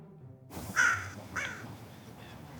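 A raven gives a couple of harsh, hoarse croaks close by, the first louder and the second shorter, followed by a fainter trailing caw, with no talk over it.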